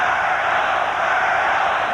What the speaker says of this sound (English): Crowd coming up.